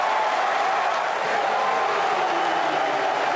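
Broad, steady crowd roar with applause and cheering from a football stadium after a Wimbledon goal in a league match, dense and continuous throughout without clear individual voices.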